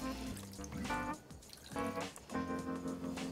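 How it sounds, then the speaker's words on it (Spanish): Half a glass of water poured into a roasting tray holding a lamb shoulder, giving a continuous close splashing pour that rises and falls over a few seconds. "Le añadimos medio vaso de agua"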